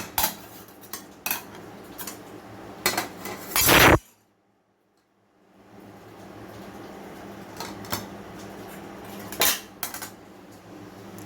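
A metal kadai is set on a home kitchen stove while cooking a vegetarian banana-flower dish. Close clinks and scrapes of metal cookware build to one loud clattering knock, then a brief silence, then more scattered clinks.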